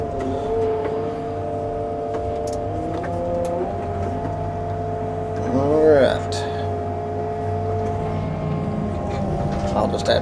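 A running excavator engine warming up while land is cleared for horses, a steady mid-loud rumble with a brief rising whine of hydraulic strain partway through, with no voice over it.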